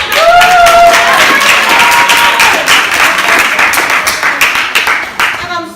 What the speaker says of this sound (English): And I just want to give you another round of applause.